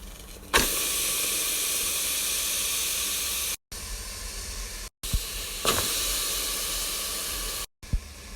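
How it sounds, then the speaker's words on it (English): Loud, steady steam hiss from a pressure cooker pot-roasting Guinness-marinated jerk chicken, close and continuous, broken by a few brief cutoffs and sharp clicks. "I'll be pot roasting in my pressure cooker today."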